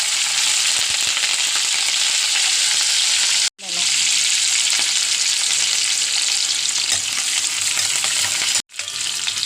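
Loud, continuous sizzling of green chillies frying in hot oil, close up, broken twice by brief moments of silence.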